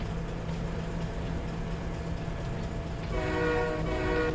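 A freight train in Farming Simulator 25 hauling lime and fertilizer rumbles steadily with a low hum, and a horn sounds near the end.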